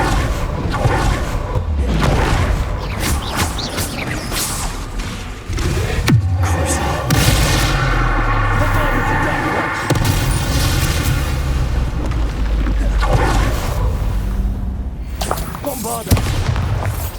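Spell explosions from Confringo and Bombarda in Hogwarts Legacy boom repeatedly amid combat noise, heavy low blasts and crackling bursts layered densely, with a voice calling out spells over the action.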